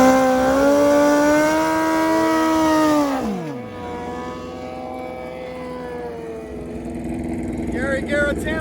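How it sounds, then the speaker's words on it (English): A chopper motorcycle, an old Z1, racing down a drag strip, its loud high engine whine holding steady and then dropping sharply in pitch as it passes, followed by quieter engine noise from farther off. "Gary Garitano saw the chopper go out. He's really rolling."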